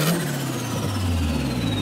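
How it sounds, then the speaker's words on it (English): A turbocharged, modified Japanese car with an intercooler accelerates in a traffic jam. The close engine note carries a high whine that slides down in pitch over a brief, loud burst. "Ah, the screamer suggests that was an intercooler,"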